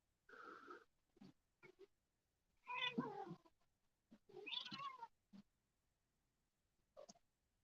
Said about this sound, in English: I don't know if anyone can hear the cats or not